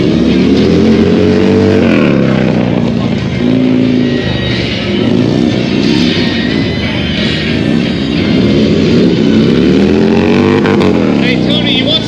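Harley-Davidson Sportster motorcycles warming up and revving, a loud continuous engine rumble with rising and falling revs throughout, people talking over it.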